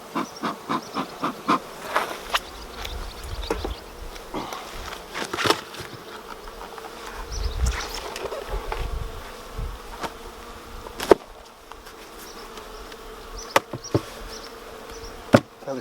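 Honey bees buzz around an open beehive during a beekeeping inspection with smoke, a steady close hum broken by sharp clicks, knocks and handling noises from working the hive, no talking.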